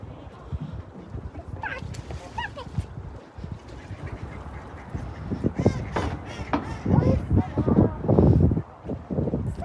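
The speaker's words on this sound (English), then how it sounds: "Did you have fun coming and seeing all the ducks?" Ducks quack by the water, some calls near and some farther off, mixed with an adult talking to a child on a nature walk.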